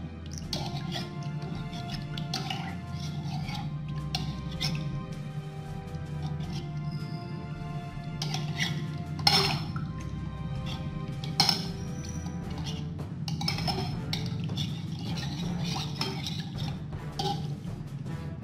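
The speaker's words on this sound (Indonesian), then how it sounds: "Oke, kemudian kita aduk." A moringa leaf organic fertilizer mixture is stirred in a container, giving light clinks and scraping knocks against the sides over a steady low hum, with a few louder taps and no talk.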